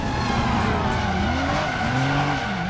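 Tires skid and squeal in the driving game Driver San Francisco, with long sliding tones bending over a steady engine roar, loud and continuous throughout.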